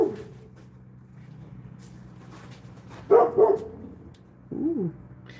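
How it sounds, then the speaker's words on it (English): A neighbor's dog named Scoob barks twice in short bursts, a pair of close yaps followed by a shorter yip, over a quiet indoor background with a low hum. "If you hear any growling in the background, that is my neighbor's dog."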